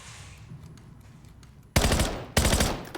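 Two loud bursts of automatic gunfire from a first-person shooter played on a Brook Starray controller for PS5 and PC, the first at about the midpoint and the second soon after, each a dense rapid rattle over quiet game ambience.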